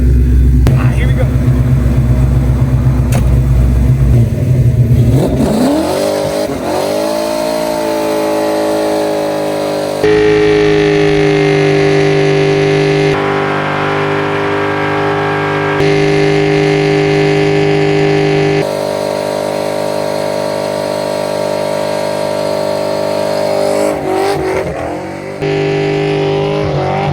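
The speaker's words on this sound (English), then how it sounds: "Y'all know we're about to do a sunset burnout over here." A Foxbody Mustang fitted with a junkyard 8.8 rear axle does a burnout at sunset. The engine roars loud and close, climbs into a high sustained rev and holds there with slight wavering, then drops and revs again near the end.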